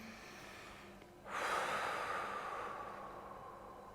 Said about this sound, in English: A couple of straw breaths, breathing in again.